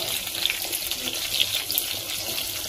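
Rohu fish curry gravy boils in a village kitchen pot after fried fish pieces go in, giving a steady, watery bubbling with faint pops that runs for the whole stretch.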